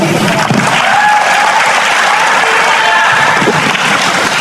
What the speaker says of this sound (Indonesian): tepuk tangan buat Pak Menkyu